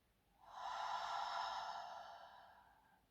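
A single deep, slow exhale through the mouth, breathy and soft, swelling quickly and then tapering off over about two seconds in a quiet setting during a guided grounding exercise.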